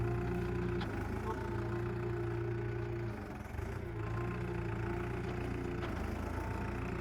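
A Farmtrac 6055 Worldmaxx 55 HP tractor engine runs at a steady, low, throbbing drone, held close and continuous, with a brief dip in the middle.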